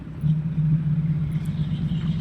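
A small Honda 160 water-pump engine mounted on a cassava stalk cutting machine runs steadily nearby with a constant low drone and rumble, unchanging throughout.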